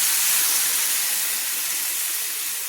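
Water poured into a hot pan of fried rui fish for a Bengali green mango and mustard curry, giving a steady, loud broadband hiss and sizzle that holds evenly throughout and fades only slightly near the end.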